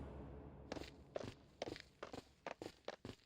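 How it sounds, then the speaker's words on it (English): Footsteps approach in a Togainu no Chi visual novel scene, about eight or nine crisp, hollow steps at an uneven walking pace, fairly close and alone. "At the sound of approaching footsteps, Akira lowered his gaze from the moon."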